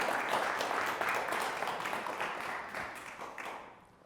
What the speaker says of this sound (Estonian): Teeme talle ka üks aplaus